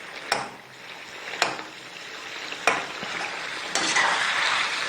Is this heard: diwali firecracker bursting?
no